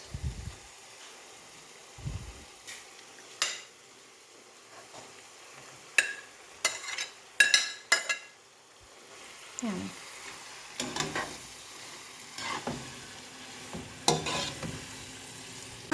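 Thin chicken strips frying with peppers in a pan for fajitas, a soft sizzle under scattered clinks and scrapes of stirring, with one brief quiet stretch in the middle.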